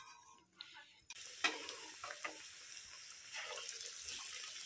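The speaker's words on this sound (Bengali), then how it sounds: "এবার দ্বিতীয়বার ভেজে নিব।" Potato chops in gram-flour batter go into hot oil for a second deep-fry, a steady bubbling sizzle rising after a brief quiet start, close and continuous with occasional stirring clinks.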